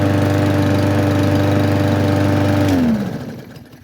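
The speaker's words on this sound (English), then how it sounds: "another thing I absolutely love about this mower is the push button start" A Yard Force 22-inch electric-start lawn mower with a 20-volt lithium battery runs loud and close with a steady engine drone, then winds down and cuts off near the end.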